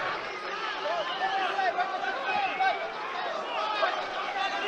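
A live audience murmurs and buzzes at the ACA 130 MMA event, a constant low hubbub beneath steady commentary talk.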